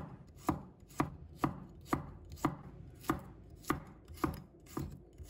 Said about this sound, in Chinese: 再准备一把大蒜，把它切成小块